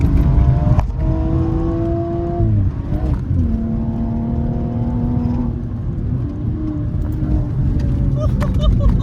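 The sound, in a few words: BMW M135i N55 car being driven hard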